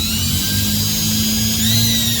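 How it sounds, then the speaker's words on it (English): Power drill spinning a dryer vent cleaning rod, a steady continuous whir with a high whine, close and loud, no voices. "you can go ahead and put it in the drill"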